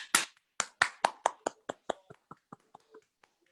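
A single person's hand claps ring out in a quick series, loud at first and then growing softer and more spaced, about a dozen sharp claps alone in a quiet room.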